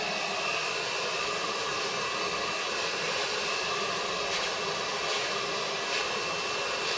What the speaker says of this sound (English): Always keeping my blow dryer moving.